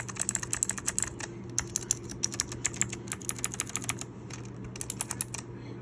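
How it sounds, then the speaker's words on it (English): Rapid clicky keystrokes from a mechanical keyboard with blue switches, close and crisp, typing in steady bursts with brief pauses over a faint low hum. "So this is the sound that it gets. It's a blue key."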